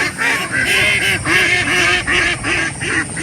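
A flock of farm-raised itik ducks quacks loudly and continuously, with overlapping nasal calls repeating in a steady, close, rhythmic chorus and no voices over them.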